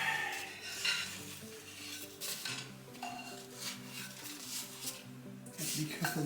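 Pita bread cooking in a hot pan for a no-knead recipe, with a soft ongoing sizzle and a few clinks and scrapes of a utensil against the pan as a round is turned over.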